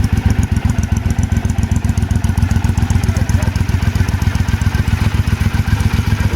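A 2012 Triumph Speedmaster motorcycle with a BC Bomber exhaust idles up close, a loud, steady, rapid pulsing thump that holds its even rhythm throughout.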